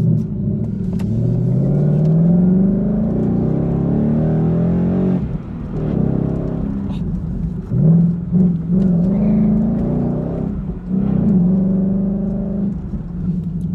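A Ford Mustang GT with a Steeda clutch pedal spring drives on a test run, its engine droning close and steady as revs rise, dip at gear shifts and climb again, with faint interior rattles.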